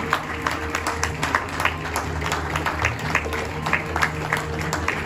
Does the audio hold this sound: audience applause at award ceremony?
yes